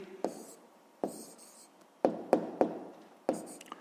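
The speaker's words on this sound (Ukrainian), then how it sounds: "записуємо відповідь" Pen strokes and taps on paper as a math answer is written down by hand for a sixth-grade exercise, with short scratchy bursts in an irregular rhythm, close and clear, no talking.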